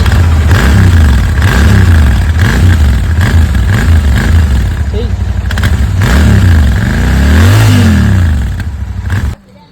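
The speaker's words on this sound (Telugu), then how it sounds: "సైలెన్సర్ సౌండ్స్ ఎట్లుందో చూద్దాం స్టాక్వి" A Royal Enfield GT 650 motorcycle with stock silencers revs repeatedly close by, its throttle blips rising and falling in a steady rhythm before cutting off abruptly near the end.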